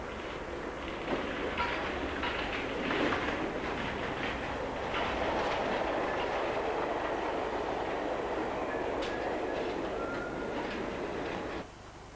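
A train rolls past on the rails, a continuous rumbling roar with faint clickety-clack, holding steady before cutting off abruptly near the end.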